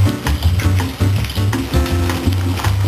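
Breaded food sizzling as it fries in hot fat in a pan, a steady close crackle and spit with no talk over it.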